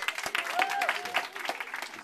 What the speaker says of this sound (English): I have a round of applause for the uncle that's come out all the way,